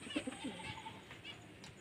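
White pigeons coo softly in a few low, rounded notes near the start, followed by faint rustling, in a quiet loft setting.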